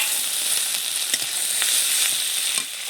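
Garlic and ginger fry with onion in a hot pan, giving a steady, bright sizzle that fills the whole stretch, with a few soft stirring knocks and no talk.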